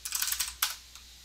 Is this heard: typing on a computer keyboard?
yes